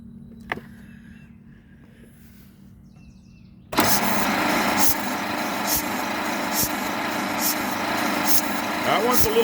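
A 1927 Pirsch fire truck engine, long unused, starts abruptly after a quiet stretch with a faint click and settles into a steady, loud, rough running drone.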